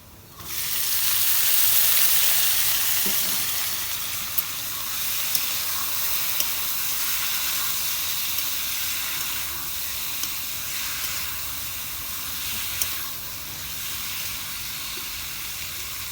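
River fish such as tengra, shrimp and puti hit a hot pan of onions for a spicy bhuna, bursting into a loud, steady hiss and sizzle that eases slightly but keeps frying with small pops throughout.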